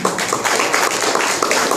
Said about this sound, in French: Je voudrais qu'on applaudisse Monseigneur Baline.